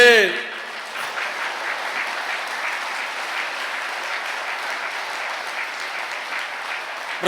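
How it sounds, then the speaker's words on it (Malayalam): Congregation applauding during a Catholic preacher's sermon: steady, dense clapping from a large crowd that holds for the whole stretch, with no talk over it. "അതോടെ കൈവർത്തി കൈയടിച്ചേ"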